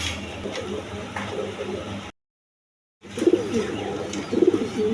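Pigeons coo close by in soft, rolling phrases. A brief full silence breaks the sound in the middle, and the cooing comes back slightly louder afterward.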